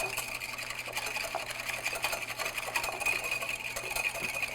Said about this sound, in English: So just whisk, kind of break up those egg whites.